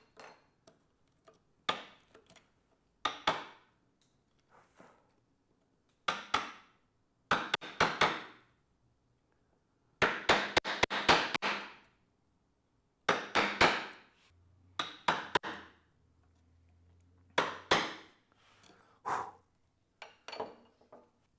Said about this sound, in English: The reason why I have a smaller chisel, it's because it's going to go deeper into the material quicker